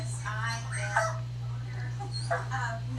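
Dogs whimper and whine in high, wavering cries close by, several short plaintive bursts over a constant low electrical hum in a podcast studio, with voices faintly in the background.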